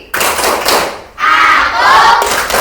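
A classroom of children shouts a 'tepuk konsentrasi' chant in unison, with loud, close group voices and thumping claps in two bursts separated by a brief pause.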